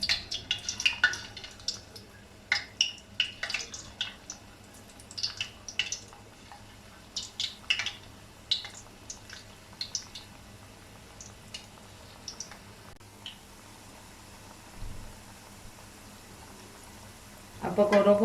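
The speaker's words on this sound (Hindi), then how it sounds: "अब पकौड़ों को अच्छे तरीके से दोनों साइड से गोल्डन होने तक फ्राई करेंगे" Small chicken keema pakoras fry in hot oil over a low flame, crackling in scattered sharp pops and spits, busy at first, then thinning to a quiet, faint bubbling.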